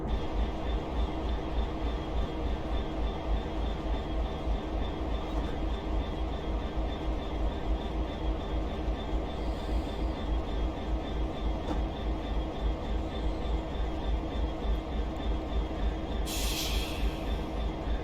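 A Class 66 diesel locomotive in Train Simulator Classic rolls along the Norwich to Lowestoft line while braking, giving a steady engine drone and rhythmic wheel clatter, with a brief hiss of air partway through.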